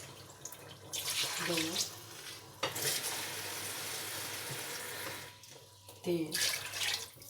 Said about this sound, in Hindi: इसमें 2 गिलास राइस, 3 गिलास पानी का डाल दूँगी।